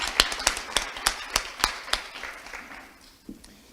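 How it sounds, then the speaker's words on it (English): A small audience at a community commemoration breakfast gives a short round of applause: a handful of distinct, evenly spaced claps ring out close by, then thin and trail away near the end. "let's give her another applause for supporting us today"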